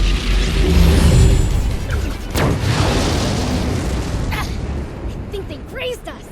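The main cannon fires in the Sandland video game: a heavy, loud boom opens the clip and rolls into a long, rumbling blast that slowly fades, with softer effects sounding near the end.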